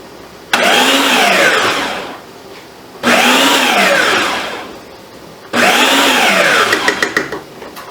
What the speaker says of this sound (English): I'm going to put all of our onions and peppers here on the food processor. I'm just going to chop them up.